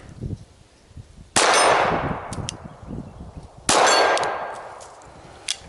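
Two sharp GS17 pistol shots, a few seconds apart, fired on an intensive overland defensive course, each a loud close crack followed by a long ringing decay, with rustling outdoor ambience between them.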